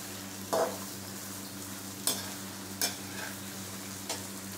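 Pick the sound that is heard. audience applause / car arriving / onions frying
onions frying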